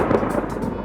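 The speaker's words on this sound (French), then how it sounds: "sacré éclair qui passe" Thunder from a passing lightning bolt, heard during a week-long group cycling trip, a dense low rumble filling the whole short moment at steady loudness with a faint rain-like hiss above it.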